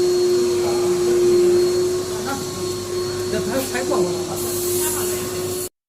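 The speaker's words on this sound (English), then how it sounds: "we can use the dust collector to clean the powder" A dust collector vacuums loose powder from a multi-lane stick bag packing machine, giving a steady, loud suction roar with a constant tone throughout, faint voices in the background, and an abrupt cut-off at the end.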